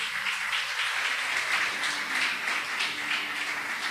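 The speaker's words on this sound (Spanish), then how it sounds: "Dar un fuerte aplauso al Señor." Church congregation at Vida Church Maturín clapping for the Lord, a steady, even wash of applause heard at moderate distance with no talking over it.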